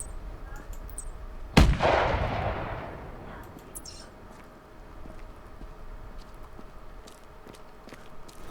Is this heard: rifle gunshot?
yes